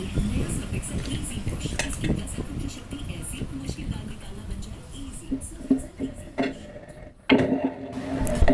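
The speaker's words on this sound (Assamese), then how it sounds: "আৰু এইখিনি এনেদৰে অলপ দেৰি লৰাই দিছোঁ।" A spoon scrapes and knocks in a pot as milk and rice are stirred for Assamese payokh, a busy run of soft clatters and scrapes with a louder clank near the end, with a voice speaking over it.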